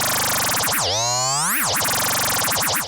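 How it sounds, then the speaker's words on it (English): A Roland JD-08 synthesizer tone with its pitch swept by LFO1, swooping down and up in broad bends and then wobbling quickly in a continuous, loud, boing-like warble. "what you're hearing are changes in pitch and extremely"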